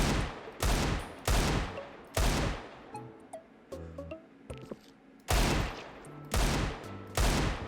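Desert Eagle pistol fire in a Roblox Counter-Strike game: loud, sharp single shots in two separate bursts at the start and end. Quieter clicks and small effect tones fill the gap between them.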